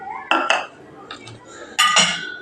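Onion and garlic go into a pan on a gas stove during home cooking, a few sharp metallic clinks and knocks of a utensil against the pan in quick bursts, fairly close and otherwise quiet.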